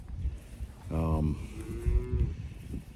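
A bull on a farm lets out a loud, close moo with a rich, droning tone, followed by a second, lower and steadier bellow, against faint farmyard background noise.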